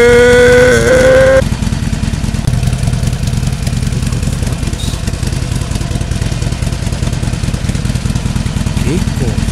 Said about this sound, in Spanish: esta es una motocicleta del futuro